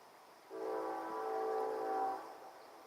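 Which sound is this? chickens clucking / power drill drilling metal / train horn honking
train horn honking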